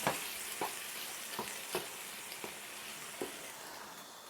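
Food sizzles steadily in a pan, with regular scraping strokes of a utensil stirring it every half second or so.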